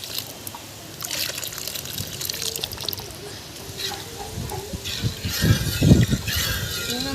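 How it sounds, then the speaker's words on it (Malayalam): Second milk poured into a pot of carrot payasam, a soft trickling and splashing liquid sound with light clinks toward the end. "ഇനി നമുക്ക് ഇതിലേക്ക് നമ്മുടെ 2ാമത് എടുത്ത് വെച്ച പാൽ ഒഴിക്കാം"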